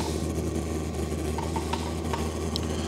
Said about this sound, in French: c'est le bruit de la turbine couvre la pompe